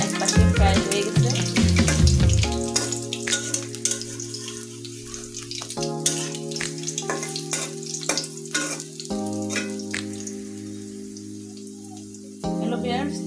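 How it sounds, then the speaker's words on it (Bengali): Lentil fritters (dal bora) frying in hot oil in a pan make a dense, crackling sizzle that runs throughout, with a steady hum and occasional clatters and stirring sounds on top. "উল্টিয়ে দেবো, এটা এক পাশে ফ্রাই হয়ে গেছে"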